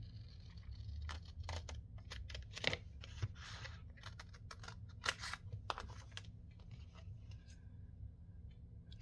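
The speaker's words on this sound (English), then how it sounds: "I'm thinking if I cut it here." Cardstock legal-size file folder being cut, giving a run of short crisp snips and rustles over a steady low background hum, fairly close and with no talking.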